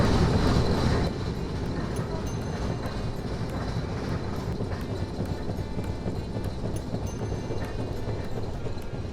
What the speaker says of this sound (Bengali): এই ট্রেনে প্রচণ্ড শব্দ হয় রীতিমতো কান ব্যথা হয়ে যায়